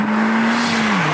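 Golf GTI anniversary edition, front-wheel drive, accelerating hard as its front tires squeal, with a loud, sustained pitched squeal over engine noise.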